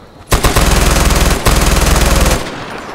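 Automatic weapon fire from a rifle in the shooter game Far Cry 4, two loud sustained bursts of rapid evenly spaced shots with a brief pause between them, close and alone.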